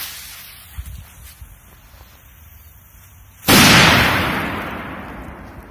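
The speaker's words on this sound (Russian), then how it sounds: "Петарда взрывается очень мощно." A powerful K1000 firecracker goes off in a single loud, sharp blast that breaks a quiet outdoor background, followed by a long fading roar of echo.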